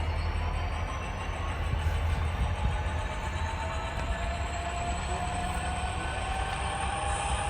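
An HO scale model local freight train pulls out of the yard onto the lead, a steady rolling rumble of wheels on track with a faint high whine from the motor, continuous and close, with no talking.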